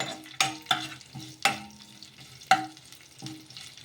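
A spoon stirs sesame seeds and green chillies in a pan for a rava breakfast, scraping the metal in sharp, uneven strokes over a light sizzle. The sound is close, with no talking.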